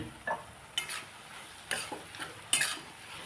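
Melon seeds, almonds, cashews and cardamom powder being sautéed in a pan for moong dal halwa: a light sizzle broken by several distinct scraping stirs and clinks of a utensil, with no talking.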